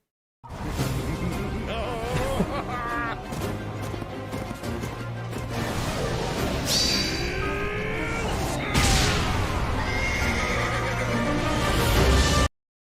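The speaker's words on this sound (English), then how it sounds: "it's just Lysithea punching a horse." A horse whinnies loudly as a character punches it in a video game, with shrill rising neighs over busy game effects, swooshes and impacts.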